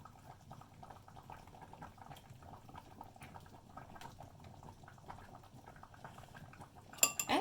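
A spoon stirs soya yogurt into a bowl of cabbage-roll filling, making soft, faint scrapes and light clinks in a quiet kitchen, with a brief louder knock at the very end.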